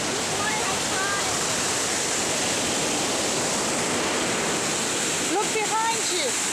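Water rushes through the last dam and locks before the channel in France, a loud, steady roar that fills the whole stretch, with brief voices heard faintly over it near the end.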